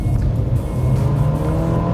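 A 2021 Renault Duster with a 1.6 engine and CVT accelerates at full throttle, its engine droning loud and steady from inside the cabin with no talk over it.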